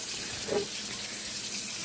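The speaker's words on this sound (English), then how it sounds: "Would you mind turning the water off for me?" A kitchen tap runs steadily while fudge pudding is made, a constant broadband hiss of flowing water splashing into a sink, moderately close and even throughout with no talk.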